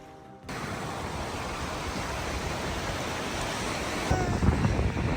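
Waves washing in on a Goa beach, a broad continuous rush of surf with wind noise on the microphone, rising slightly louder near the end, no talking heard.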